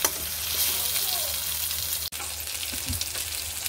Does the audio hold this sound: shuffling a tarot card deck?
no